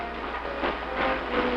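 A moving passenger train from a 1940 film, heard as a steady close rumble and hiss with rhythmic swells, no voices over it.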